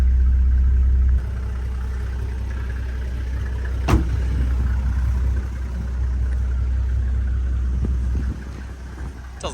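A Toyota Troopy's 180-series diesel idles steadily with no turbo fitted, a loud, constant low rumble close by, with one brief sharp knock partway through and a slight drop in level near the end.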